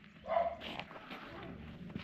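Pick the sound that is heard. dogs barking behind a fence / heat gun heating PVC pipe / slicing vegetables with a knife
dogs barking behind a fence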